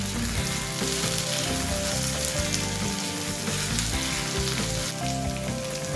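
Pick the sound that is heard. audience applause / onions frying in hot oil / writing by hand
onions frying in hot oil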